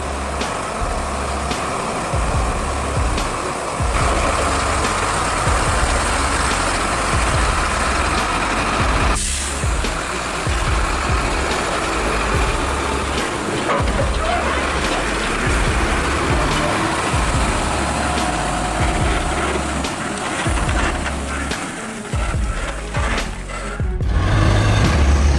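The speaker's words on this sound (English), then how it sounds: "Two giant dozers, heavy metal monsters, are being loaded onto a long tractor trailer." Heavy truck engines rumble steadily throughout as two giant dozers are loaded onto a long tractor trailer, with a brief air-brake hiss partway through and a louder burst near the end.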